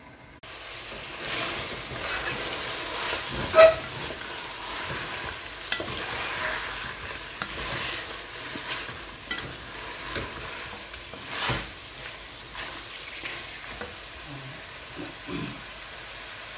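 Koko leaves frying in a pan with meat, mushrooms and dried shrimp, a soft steady sizzle with intermittent stirring scrapes and clatters, fairly faint and close.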